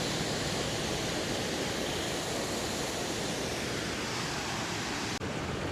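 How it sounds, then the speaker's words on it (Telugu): Water rushes through the gates of the Sir Arthur Cotton barrage at Dowleswaram on the Godavari, a loud, dense, unbroken roar of churning flow close by, with no voices. "చూడండి వాటర్ ఎలాగ వస్తున్నదో గేట్లోంచి."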